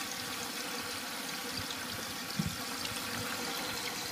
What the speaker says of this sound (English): the tank is filling